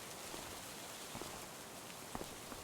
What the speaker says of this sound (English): I'll wait for the rain to pass